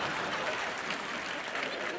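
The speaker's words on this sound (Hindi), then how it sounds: "सब लोग उनके लिए ताली बजाएंगे" Steady applause from an audience welcoming a guest, a dense even wash of clapping that holds at one level throughout, with a faint murmur of voices mixed in.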